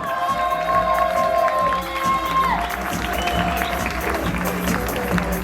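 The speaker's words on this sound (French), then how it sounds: "Je vous demande d'applaudir les Soloas" A crowd at a motocross trophy presentation claps and cheers, a moderately loud, continuous wash of hands mixed with sustained tonal background sound throughout.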